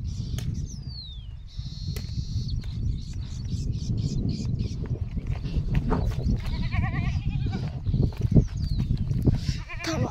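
Goats bleat several times at close range over a low rumbling background, with birds chirping faintly now and then.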